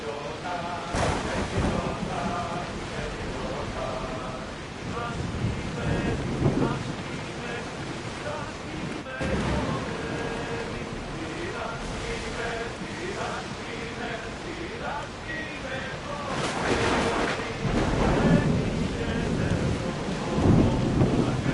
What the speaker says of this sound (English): Look at that storm!